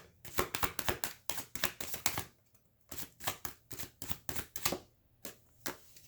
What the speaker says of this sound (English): let her drop as many cards as she wants through the first shuffling